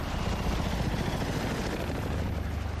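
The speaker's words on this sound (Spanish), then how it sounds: "Solo los helicópteros soviéticos son capaces de localizarlos." A Soviet military helicopter over Afghanistan drones with a loud, continuous rotor and turbine roar, steady throughout and with no voices.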